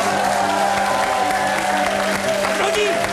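Studio audience applauding a guest's arrival on a French variety show, steady clapping throughout with crowd noise and music-like tones underneath, voices mixed in.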